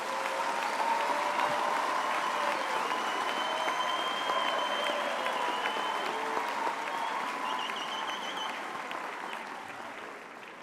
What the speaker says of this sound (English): all of us deserve a big round of applause to each other